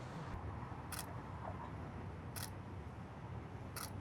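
A camera shutter clicks three times at an even pace, crisp and close, during a natural-light photo shoot, against a quiet background.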